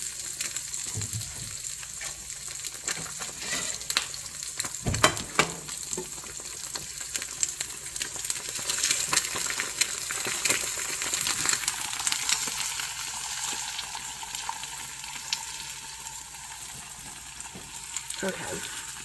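Eggs fry in a pan with a continuous crackling sizzle, close and steady for the whole stretch, with occasional clinks and scrapes of a utensil.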